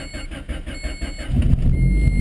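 A car engine cold-starts in snow, cranking with a pulsing rhythm before catching and rising into a rough, loud idle, close by.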